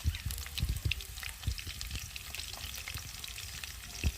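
Potato pieces fry in hot oil in a pan, a soft continuous sizzle broken by irregular bubbling pops and the occasional scrape of stirring.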